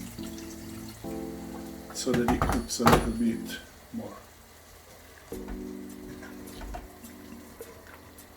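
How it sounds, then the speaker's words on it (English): Water splashes into a simmering pasta alla Norma sauce with basil, giving a burst of hiss and sizzle around the middle that settles back to a low bubbling, while someone talks throughout. "we can add a bit of water"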